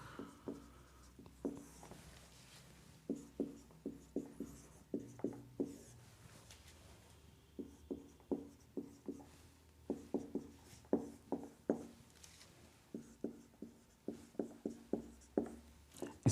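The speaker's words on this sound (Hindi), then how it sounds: "इसको मैं यहाँ लिख रहा हूँ" A maths integration problem is written out by hand: quiet, rhythmic scratching strokes come in quick bursts with brief pauses between them, close and soft.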